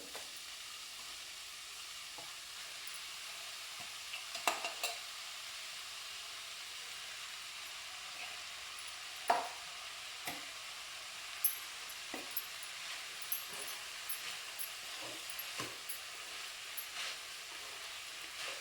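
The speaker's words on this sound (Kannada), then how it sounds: "ಈಗ ನಾವು ತೊಳೆದು ಕ್ಲೀನ್ ಮಾಡಿ ಇಟ್ಕೊಂಡಿರುವಂಥ ಬಸಳೆ ಸೊಪ್ಪನ್ನು ಅದಕ್ಕೆ ಸೇರಿಸುವ." Basale (Malabar spinach) leaves are stirred into dal in a pan with coriander powder, giving a soft background sizzle and steam with scattered light scrapes and clicks from stirring. There is no talk.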